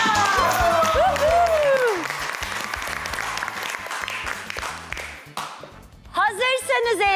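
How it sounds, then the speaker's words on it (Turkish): Studio audience applause at a televised cooking competition, a loud sustained burst of clapping with a musical sting over it, fading before a short jingle at the end. "Alkışlar."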